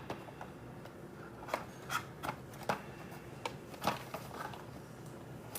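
Several crisp scissor snips at irregular intervals, close and fairly quiet, with faint rustling between cuts.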